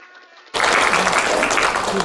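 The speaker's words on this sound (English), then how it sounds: "let us give them a round of applause." Crowd applause breaks out suddenly after a brief quiet moment, filling the rest of the clip with steady, dense clapping from an audience at a Dharma society gathering in Richmond, Canada, honouring event volunteers.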